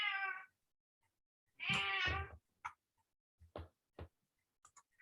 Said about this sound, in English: that's Chuck's cat